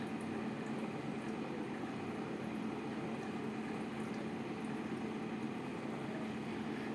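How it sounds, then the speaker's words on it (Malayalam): Garlic fries in hot oil with mustard seeds and cumin, a steady, close, unbroken sizzle and crackle that holds at an even level throughout, with no talk. "ഗാർലിക് ഒന്ന് ഫ്രൈ ആവട്ടെ."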